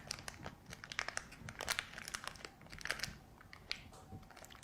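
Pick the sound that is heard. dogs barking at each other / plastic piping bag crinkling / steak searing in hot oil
plastic piping bag crinkling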